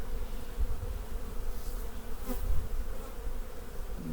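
Close, continuous droning buzz of many honey bees around a hive, fluctuating slightly in loudness, with occasional soft knocks and no talking.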